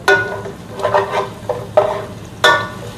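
Garlic frying in a pan and being stirred with a utensil, giving a steady low sizzle punctuated by several sharp scraping and clinking strokes against the pan, close and fairly loud.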